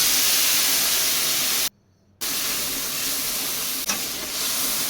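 Spice paste mixed with water sizzles in hot oil with nigella, chopped tomato and green chili, a loud continuous frying hiss that cuts out for a moment and then resumes, with a single soft clink.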